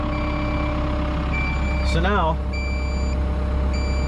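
Warning beeps from a Cat 305.5E2 mini excavator's quick coupler after the wedge unlocks: steady repeated tones over engine rumble, with a brief voice mid-clip.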